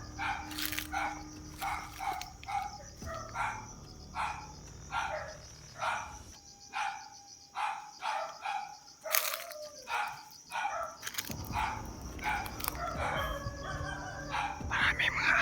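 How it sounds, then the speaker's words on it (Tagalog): Several dogs bark repeatedly in rapid bursts, fairly close, with a steady high insect-like buzz running underneath and a brief quieter pause midway. "Maraming mga aso."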